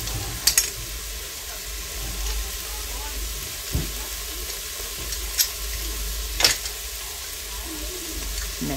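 Garlic sizzles steadily in a pot for yellow split pea and ham soup, a continuous close frying hiss with a few sharp clinks of a utensil against the pot.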